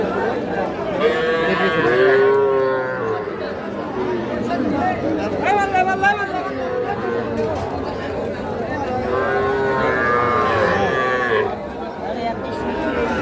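Bull calves mooing at a busy cattle market, several drawn-out calls near and mid-distance, heard over steady crowd chatter and bargaining voices.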